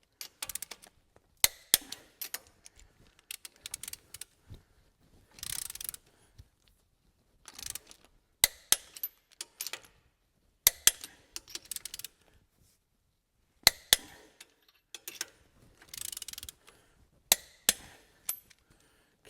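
A 1/2-inch torque wrench with a 3/4-inch socket tightening Tacoma lug nuts, giving sharp isolated clicks and ratcheting bursts spaced irregularly, close up, with quiet gaps between.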